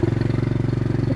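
A motorcycle engine chugs close by in a rapid, even pulsing throb, loud and steady over its brief length.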